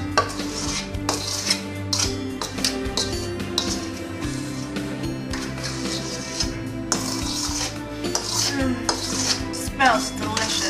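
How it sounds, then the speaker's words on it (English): Apple pie filling is spooned into a pie crust, with repeated clinks and scrapes of a spoon against a bowl and pan, close and irregular, no talking. "Now we're going to add our filling to our pie crust. Make sure you get all those juices."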